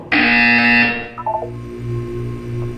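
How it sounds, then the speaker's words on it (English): A loud electronic buzzer in Portal 2 VR sounds once for about a second, then cuts off, leaving softer tones and a low hum. "You will hear a buzzer."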